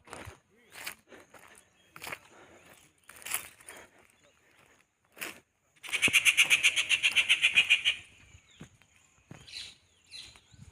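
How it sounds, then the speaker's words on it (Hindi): A bird calls repeatedly in open country near the Narmada river, with a loud, fast trilling burst in the middle, scattered short chirps around it, and someone speaking over parts of it. "आवाज़ कर रहा पक्षी"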